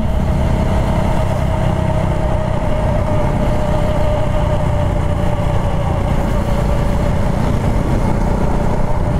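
A motorcycle engine runs steadily during a ride, a loud, constant drone with a sustained tone and rushing wind noise and no breaks.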